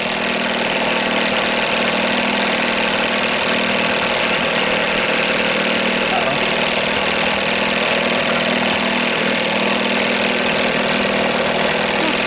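A 1982 Evinrude 9.9hp long-shaft outboard motor runs steadily at close range, a loud, constant engine drone with a buzzing hum and no pauses.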